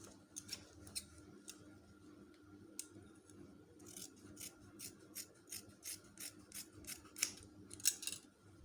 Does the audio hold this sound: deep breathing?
no